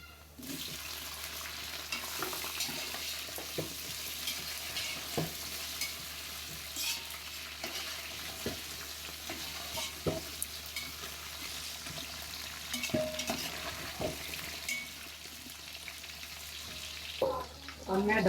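Chicken goes into a pot of golden-browned onions and fries with a continuous dense sizzle, broken by frequent stirring knocks and scrapes over about eighteen seconds, close and even in level.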